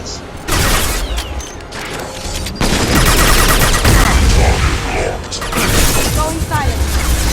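Heavy gunfire in the Mass Effect 2 video game rattles on loud and sustained, with bursts of automatic fire and impacts overlapping throughout.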